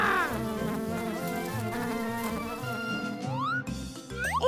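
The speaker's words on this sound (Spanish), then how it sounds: "¡Abeja!" A cartoon bee buzzes steadily through a children's animal-naming song, a continuous insect drone set against bright background music.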